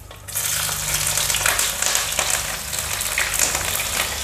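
Green chillies and vegetables for a millet khichdi hitting hot oil with a sudden loud hiss that settles into a dense, steady sizzle close by, with no talking.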